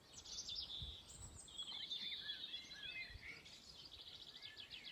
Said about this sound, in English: that is birdsong